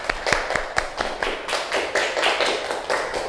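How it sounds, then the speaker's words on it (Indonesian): Classroom of students clapping for a student group, a fast irregular patter of hand claps with sharp individual slaps, moderately close and sustained for a few seconds with no talking. "Tepuk tangan untuk kelompok Melati."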